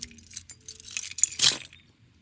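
A bunch of keys jangles and clinks close by in a few quick shakes, loudest near the end before falling quiet.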